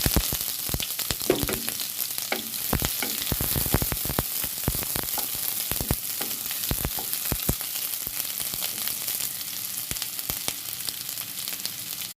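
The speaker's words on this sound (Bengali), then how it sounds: "তেলটা গরম হয়ে গেলে এখানে আমরা পেঁয়াজ দিব" Onions frying in hot oil for chicken biryani make a loud, continuous sizzle with sharp crackles and pops scattered throughout, heard close up with no voices.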